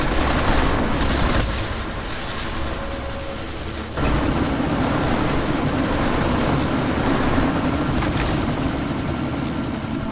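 A helicopter in the Deus Ex: Mankind Divided video game thrums loudly and continuously, with bursts of combat gunfire mixed in.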